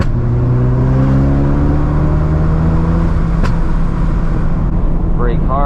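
A Ford Focus RS with aftermarket modifications pulls hard through a canyon road, its engine note climbing steadily through the gears, loud and close from inside the cabin, with a brief voice near the end.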